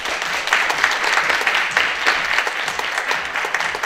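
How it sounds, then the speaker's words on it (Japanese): An audience at a live radio-style event in Fukushima applauds to welcome a guest, with dense, steady clapping filling the whole stretch at close range and no voices heard. "それでは拍手でお迎えください。"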